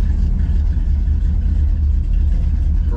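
A 1969 Chevrolet Camaro RS/SS with a 396 V8 runs steadily up close, its loud, deep rumble holding even and continuous without voices.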